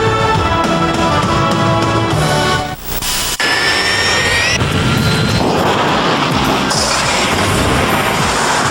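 Loud roaring jet engines of UPS cargo planes whine and rumble, with a sudden crash-like cut midway, then a rising high-pitched turbine whine over heavy rumble.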